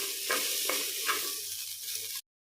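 Chopped onions sautéing in a tri-ply stainless steel pan, a steady broadband sizzle with a few soft stirring scrapes, close and continuous with no talk, cutting off abruptly at the end.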